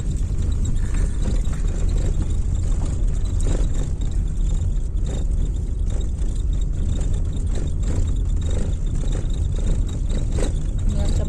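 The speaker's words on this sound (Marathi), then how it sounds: "गाडी चालली आहे धूळ उडवत उडवत" A car drives along an unpaved dirt road kicking up dust, a loud continuous rumble of engine and tyres with scraping and crunching over the rough surface.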